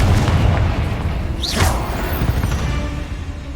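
A Confringo spell explosion in Hogwarts Legacy, a loud booming blast with a swooshing streak through the middle, over a steady rumbling battle background.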